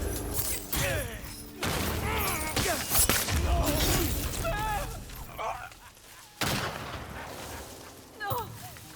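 Loud gunfire from a powerful gun in Ghost of Yotei, several sharp blasts and impacts with crashing, shattering debris, while someone talks excitedly over the shots.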